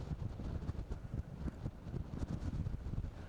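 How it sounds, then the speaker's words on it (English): Strong wind buffets and roars in uneven gusts across an outdoor hockey pitch during a women's match, a low rumbling rush with no voices. "And it really has got extremely windy."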